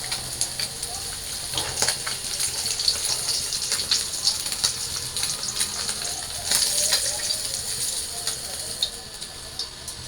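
Pabda fish frying in a pan, with a steady, bright hissing sizzle and scattered oil crackles running continuously, close and moderately loud.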